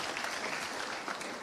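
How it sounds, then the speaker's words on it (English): Brief burst of audience applause at a town hall on adverse childhood experiences, a dense, soft patter of many hands heard from a distance. "Round of applause."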